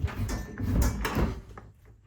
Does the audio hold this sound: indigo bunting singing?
no